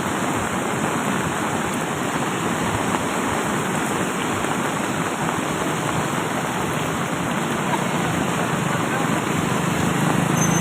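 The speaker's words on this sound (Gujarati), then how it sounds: "મુસળધાર વરસાદ આવી રહ્યો છે અને નદીમાં પૂર આવી રહ્યું છે" Torrential rain and a flooding river in Dang district merge into a constant, loud, dense roar of pounding water that holds steady from start to finish with no voices.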